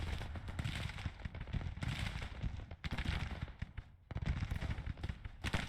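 Gunfire in a Grand Tactician Civil War battle, dense crackling volleys of musketry and scattered shots rolling on continuously at a distance, with a brief lull midway before firing resumes.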